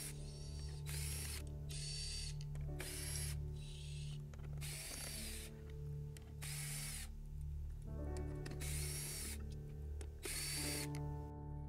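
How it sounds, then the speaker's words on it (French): A power driver backs out the gray machine screws holding a Tesla Model 3 door panel and speaker, about seven short whirring bursts spaced a second or so apart over a steady low hum, close and clear with no talking. "Enlevez les 12 ou 13 vis mécaniques de couleur grise, y compris celles qui tiennent le haut-parleur."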